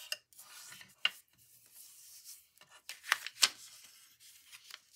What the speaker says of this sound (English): I'm going to burnish this. Burnish this. Burnish this one.